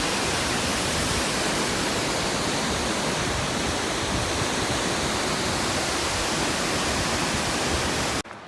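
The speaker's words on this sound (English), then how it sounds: "So we made it to Rolling River Falls." Rolling River Falls, a waterfall in Kings Canyon, roars as a loud, steady broadband rush of falling water close by, continuous for about eight seconds before cutting off abruptly.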